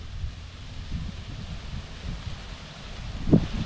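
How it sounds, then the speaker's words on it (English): Wind gusting outdoors at a ball park, buffeting the microphone as a continuous low rumble that swells near the end, with no talk. "Really windy today, but it is an incredible day."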